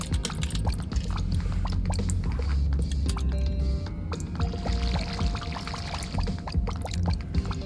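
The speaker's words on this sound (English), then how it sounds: "And I will add water as well." Water being poured in the AtomCraft video game, a steady gurgling pour with splashing, fairly close and continuous with small clicks over it.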